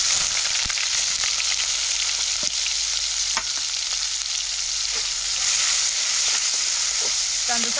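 Onion frying in hot oil with mustard seeds and cumin, a steady crackling sizzle throughout with occasional sharper pops and stirring clicks, close and fairly loud, no talking.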